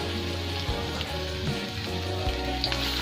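Chopped onion, garlic and ginger sizzle in a hot pan with a steady crackling hiss and scattered pops, close and continuous without any talking.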